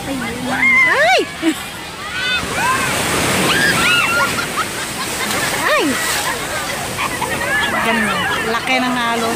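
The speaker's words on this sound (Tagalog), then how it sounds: "Laki ng alon." Ocean waves surge and wash against rocks at Repulse Bay beach in Hong Kong, a continuous close roar with splashes, while excited voices call out and chatter over the surf.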